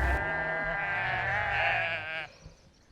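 Belle-Île sheep bleating, a loud sustained harmonic bleat lasting about two seconds and standing alone, followed by a quieter tail and faint background noise.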